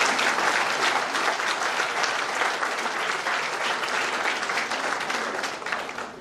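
An audience at a book launch in Bengaluru bursts into steady, dense applause that carries on for several seconds, fairly loud and close, with no voices over it.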